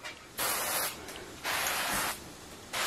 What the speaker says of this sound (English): When I spray it, it sprays out a fine mist.